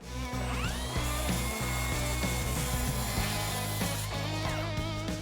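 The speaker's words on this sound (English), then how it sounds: "when I cut it down using a stop block on the miter saw to cut the miters" Miter saw with a stop block cutting wood miters for mitered corners, a loud steady motor whine with blade-through-wood grinding sustained across the whole stretch, close by and alone.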